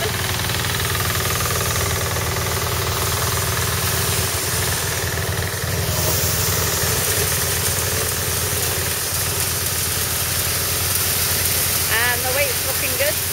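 A small stationary thresher driven by a two-wheel tractor runs steadily, throwing out wheat chaff; a continuous loud engine and machinery drone fills the whole stretch, with a faint bird chirp near the end.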